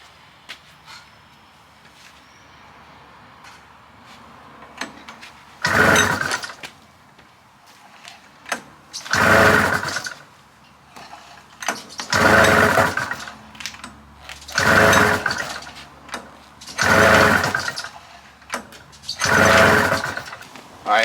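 Repeated pull-start attempts on a 600cc Arctic Cat engine fitted to a vintage Triple EEE buggy whose fuel pump has likely lost its prime, six loud bursts of cranking chug about every two and a half seconds, each stopping short without the engine catching.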